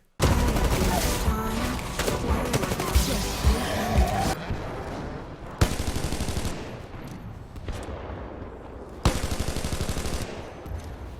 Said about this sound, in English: The gun from the trailer does sound more like an R301.